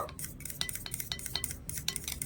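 Ghee and flour being stirred together in a pan, a steady run of light scraping and clinking taps from a spoon or utensil against metal, close and fairly quiet, with no voices.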